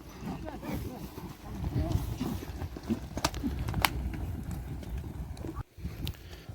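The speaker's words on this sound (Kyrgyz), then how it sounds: "Мына ортодо жүрөт көк ат" A grey horse walks among other horses, its hooves clip-clopping faintly and unevenly on the ground, with someone talking over the scene throughout.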